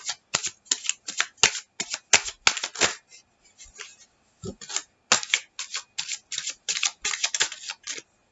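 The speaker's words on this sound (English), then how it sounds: "Do one more shuffle." Rapid bursts of tarot cards being shuffled by hand, crisp riffling flutters repeating in quick clusters with short pauses between.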